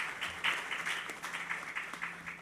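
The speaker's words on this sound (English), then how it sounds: "So please give yourselves a big round of applause" A quiz-final audience breaks into sustained applause, dense steady clapping from a hall full of people at moderate distance, with no talk over it.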